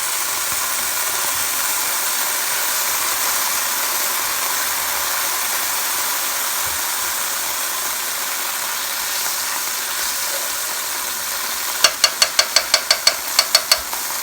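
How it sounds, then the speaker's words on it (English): Steady broadband hiss of butter glaze sizzling in a hot pan with salmon and asparagus, continuous throughout, with a brief run of sharp metallic clicks near the end. "The sizzle, you want to hear."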